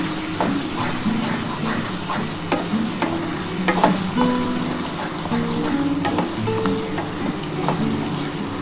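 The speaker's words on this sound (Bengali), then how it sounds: "অল্প একটু হলুদ দিয়ে দিলাম দিয়ে ভালো করে একটু নাড়াচাড়া করে নেবো" Chili chicken being stirred in a hot frying pan after turmeric and a little sugar are added, a steady close sizzle with scraping and clinking of the spoon against the pan throughout, no talking.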